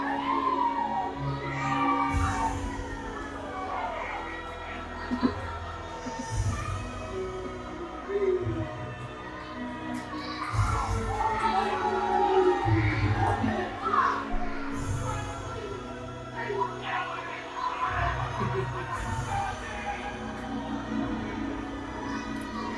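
Crowd noise fills an NJPW Tamashii wrestling event in Mangere, Auckland, New Zealand: a dense, steady murmur of voices and shouts, with children's voices mixed in, rising and falling throughout without a break.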